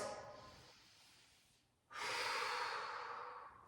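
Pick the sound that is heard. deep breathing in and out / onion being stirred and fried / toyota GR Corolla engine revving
deep breathing in and out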